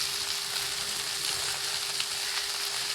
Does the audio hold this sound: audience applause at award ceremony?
no